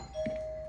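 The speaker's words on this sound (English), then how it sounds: "doorbell. We just got something delivered." A household doorbell chimes once indoors, a clear sustained electronic tone that rings on steadily at moderate level with no talking over it.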